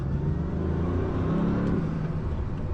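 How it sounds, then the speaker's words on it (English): Bugatti Veyron engine pulling hard under acceleration, a steady loud low rumble and whir with turbo spool building, heard from inside the car with no talking. "And when the turbos do spool, you get this surge of power almost unlike any other car."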